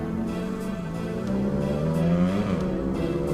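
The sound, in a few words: motorcycle engine revving on the road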